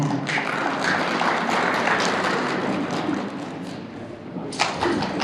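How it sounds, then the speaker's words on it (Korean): Indoor audience applause at a Korean university winter faculty training session, a steady dense patter of clapping lasting several seconds with a brief thump near the end as the presenter steps up. "모두 큰 박수로 환영해 주시기 바랍니다."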